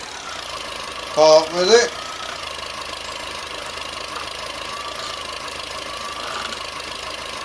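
A loader tractor's engine idles with a steady, low, even drone throughout, while a voice speaks briefly near the start.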